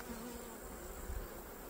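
Honeybees swarm around an opened hive during a colony inspection and honey harvest, their dense, steady buzzing droning close and continuous, with a brief low thump near the middle.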